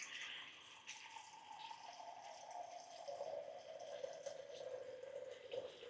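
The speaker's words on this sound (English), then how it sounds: "So just let the water run for a while" Water runs steadily in a thin stream from an LG refrigerator dispenser after a filter change, a soft continuous trickle with a faint hum, heard quietly from nearby.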